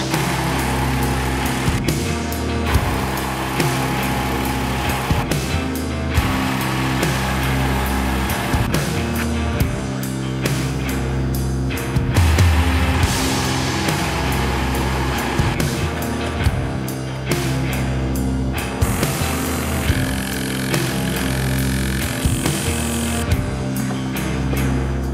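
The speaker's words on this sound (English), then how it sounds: "This is a bit of 5mm round in a lathe that could support an 18-inch diameter piece." A metal lathe turns a small 5 mm round bar, its steady motor drone running loud and close throughout with a constant low hum and busy mechanical clatter layered on top, and no talking.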